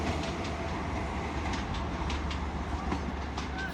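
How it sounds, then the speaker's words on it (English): A train rolls out of Exeter St Davids station, England, with a steady low rumble and faint clicking of wheels over rail joints, moderately close and continuous, no talk. "So as she goes out, I will leave it here at Exeter St David's on this Saturday afternoon."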